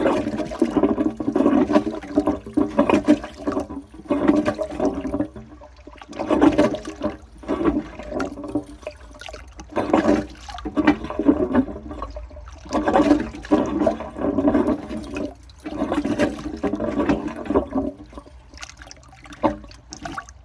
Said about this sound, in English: that is the NTW Lawley 402 cistern